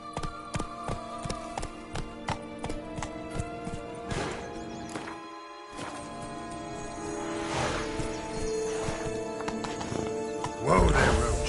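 Hooves of the horse Roach in The Witcher 3 drum in a steady galloping rhythm, close and continuous over layered game ambience, then a brief rising swell near the end.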